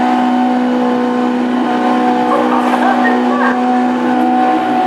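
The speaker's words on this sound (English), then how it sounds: "I believe that Tabor is celebrated with a burnout." A classic hot rod at a Best in Britain Championship final at Hednesford roars continuously in a celebratory burnout, a loud sustained engine drone with whining tones over crowd and announcer noise.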